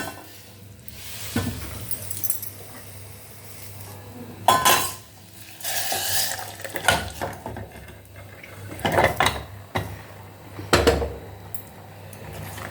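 Metal pots and utensils clank and scrape in scattered bursts as beetroot tomato rasam is transferred into a cooking pot, with a few louder clangs between quieter handling sounds in a kitchen.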